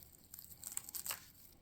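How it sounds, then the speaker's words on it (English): Radish sprouts plucked by hand and pulled out of an indoor hydroponic grow tray, a soft, close crackling and tearing rustle that swells briefly in the middle, faint and alone. "pluck a handful of these up, pull them right out of the tray, and then just cut off the roots and discard them"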